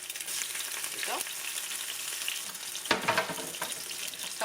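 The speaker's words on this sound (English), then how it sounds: "So I'm gonna finish frying my eggs." Steady crackling sizzle of eggs frying in a pan, with occasional clinks and stirring noises layered over the hiss.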